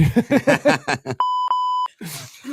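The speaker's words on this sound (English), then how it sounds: "Hit that buzzer, Lee." Rapid vocal chatter on a podcast gives way to an electronic buzzer sounding in three short, steady tones, followed by a brief voice afterward.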